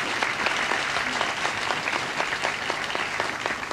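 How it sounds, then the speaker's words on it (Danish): An audience claps together in steady applause, dense and continuous at a moderate distance, with no talking over it. "du fik da en velfortjent klapsalve"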